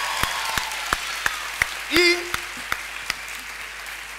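A studio audience claps for two guests in a few sparse, evenly spaced claps rather than a full ovation. A brief voice cuts in midway.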